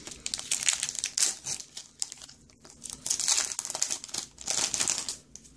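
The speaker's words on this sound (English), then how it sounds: "let's go ahead and open the booster pack up" A Pokemon X and Y Flashfire booster pack's foil wrapper is torn open, giving close, bursty crinkling and crackling in several waves, with no talking.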